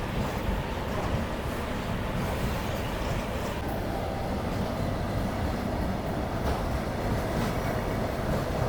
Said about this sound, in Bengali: বন্ধুরা ঘড়িতে সময় 1:34 আমার ট্রেন ছেড়ে দিল ডানকুনি রেলওয়ে স্টেশন থেকে।